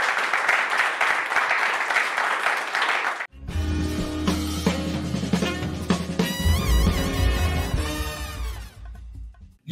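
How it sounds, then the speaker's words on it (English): Applause from a debate audience rings out for about three seconds, then gives way to loud music with a deep bass line and melodic tones that fill the rest. "give them a round of applause"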